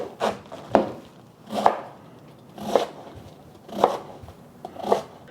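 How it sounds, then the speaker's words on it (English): Knife chopping a medium cabbage and cutting off its stem on a board, five firm evenly spaced cuts close by, each a crisp thud with a crunchy tail, no talking. "I'm just going to cut off this stem part."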